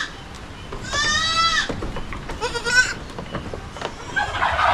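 Young kid goats on a farm give two loud, wavering bleats about a second apart, with quieter rustling and faint farm noise between them.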